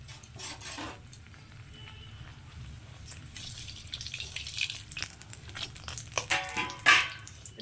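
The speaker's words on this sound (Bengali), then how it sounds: "এখন আমি এই ব্রেডের পিসগুলোকে আমি এই তেলের মধ্যে একটা একটা করে ভেজে নেবো" Bread pieces fry one at a time in oil and ghee for a shahi bread malai, giving a steady low sizzle with occasional utensil clinks and a louder scrape near the end, no talking.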